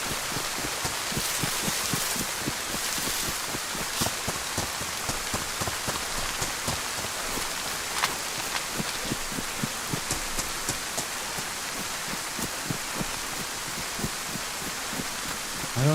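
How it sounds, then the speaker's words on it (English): Heavy rain in the survival video game DayZ pours down in a dense, constant hiss of drops spattering on surfaces, loud and unbroken throughout with no voices. "This rain is relentless."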